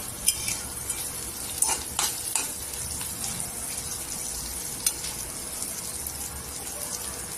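Green chillies fry on a low flame for thecha, producing a soft, steady high sizzle with a few sharp scrapes and clinks of stirring early on, close and fairly quiet, without speech.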